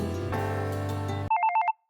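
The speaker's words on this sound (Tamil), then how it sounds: "ஃபோன் அடிக்குது எங்க வச்சேன்னு தெரியலையே" A telephone rings in a Tamil animated cartoon scene, cutting in after background music as a short burst of about five quick, bright electronic trills, then stopping abruptly into silence.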